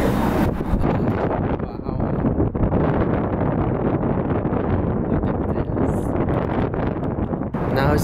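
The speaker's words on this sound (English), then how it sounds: "It's gonna be so windy" Strong wind buffets the microphone on the outdoor observation deck of the CN Tower, a loud, continuous rumbling roar with gusty surges throughout, close and overwhelming, with voices buried faintly underneath.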